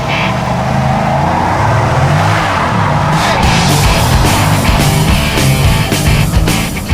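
A 2012 Dodge Charger SRT8 does a burnout, its engine roaring loud and close with a sustained rising drone and harsh tire noise filling the clip.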